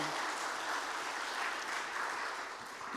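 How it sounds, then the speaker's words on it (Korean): Brief, fairly soft applause from a church congregation thanking the pastor at a scholarship committee worship service, an even wash of clapping hands that tapers slightly at the end. "우리 큰 박수로 목사님 감사합니다"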